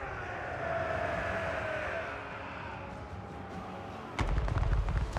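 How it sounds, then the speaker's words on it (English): Musket volleys ring out in the battle game Total War: Warhammer 3. A low, steady battlefield rumble leads into a sudden, loud crackling burst of massed shots near the end. "got a little volley coming in"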